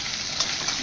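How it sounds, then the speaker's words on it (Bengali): Tomato frying with cumin, chilli and ginger in a pan for a cabbage curry, a steady close sizzle with light scraping stirs through a brief moment. "এখন টমেটো দিলাম, এটা দেখে নাড়তে হবে অনেকক্ষণ"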